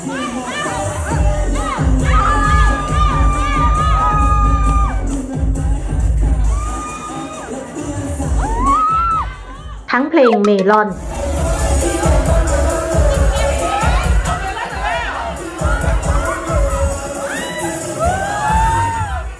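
Fans screaming and cheering at a concert-style fan party, loud sustained crowd roar with high whoops and shrieks, briefly cut off mid-way before surging back, with a voice and music mixed in.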